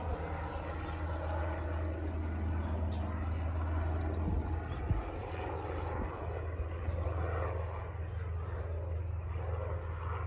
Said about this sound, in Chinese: 它直升飞机比较小